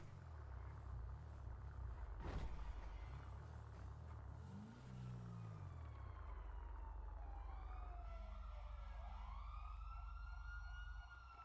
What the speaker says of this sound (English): Hey Jay, do you hear those sirens?